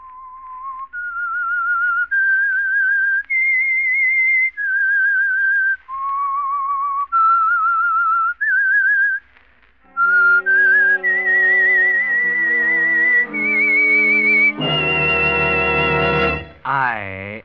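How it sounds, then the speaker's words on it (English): A signature whistled tune for The Whistler, a mystery radio show sponsored by the Signal Oil Program, with a lone melody of clear sustained notes that an orchestra then takes up, rising to a final flourish. "That whistle is your signal for the Signal Oil Program"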